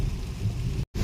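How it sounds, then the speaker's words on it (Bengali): Heavy rain pounding steadily during a night drive, a dense continuous roar with no talk, briefly cut by a moment of silence near the end. "আরে যত এগোচ্ছি তত বৃষ্টির পরিমাণ বাড়ছে"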